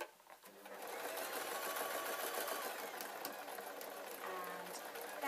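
A sewing machine runs steadily, sewing a knitting bag with bamboo handles, its fast mechanical stitching whirr continuing almost without pause, close and fairly loud.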